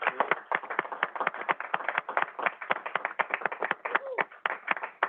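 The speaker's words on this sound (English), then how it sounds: "give you and the staff a round of applause for how hard you've been working" Meeting attendees clap for the staff at a California Transportation Commission session, a small group producing distinct, uneven individual handclaps in a rapid, close, continuous patter.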